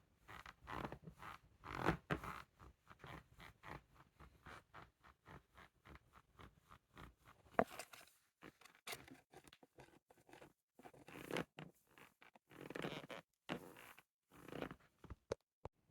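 A Scarpa F1 XT ski boot is flexed repeatedly, giving a series of short creaks and crunchy plastic squeaks in irregular bursts, close and fairly quiet, with brief pauses between flexes and no talking.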